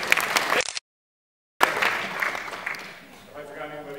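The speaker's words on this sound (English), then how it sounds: "But round of applause for Rebecca." Audience at a TIFF 2013 film premiere Q&A claps for a crew member, a burst of applause cut by a brief silent gap, then resuming and fading into a quieter room with faint voices.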